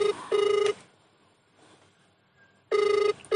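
Telephone ringtone sounding during a call: two loud electronic ring bursts separated by a quiet gap of about two seconds.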